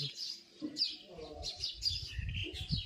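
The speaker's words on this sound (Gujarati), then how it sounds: "ચકલીઓ કિલકિલાટ કરી રહ્યું છે" Sparrows chirp in quick, high bursts on a cloudy morning by a small lemon tree, several birds together, with low voices and movement murmuring underneath.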